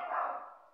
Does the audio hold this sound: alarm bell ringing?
no